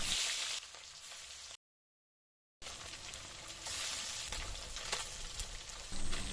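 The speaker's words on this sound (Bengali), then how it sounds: "বাকি মাছগুলিকেও ভালো করে ভেজে নেব।" Rohu fish pieces fry in hot white oil, a soft steady sizzle that runs on with a short dropout partway through, quiet and without voices.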